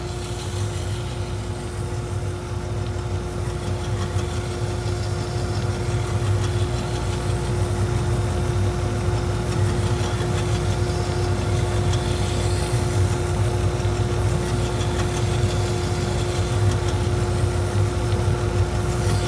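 A slow knife sharpening machine turning at about 1725 RPM for Japanese-style knives gives a steady, close mechanical hum with a constant tonal whine and no break in level.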